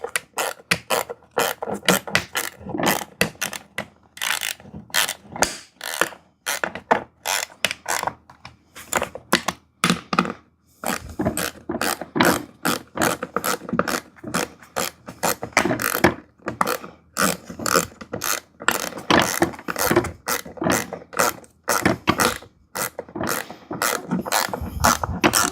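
Tightening bolts on a VEVOR hydraulic barber chair: rapid, continuous ratcheting clicks in quick bursts with brief pauses, close and loud, with no talking.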